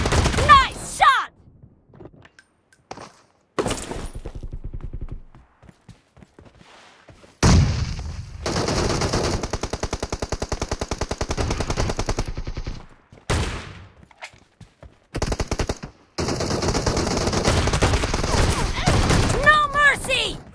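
Rapid M1014 shotgun blasts in a first-person shooter game, loud bursts of repeated gunfire in several clusters separated by short pauses, with in-game voice callouts heard between the volleys.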